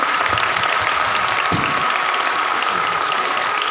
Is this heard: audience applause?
yes